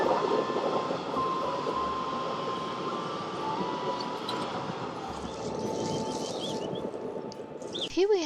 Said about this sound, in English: I came just in time as the train was passing by.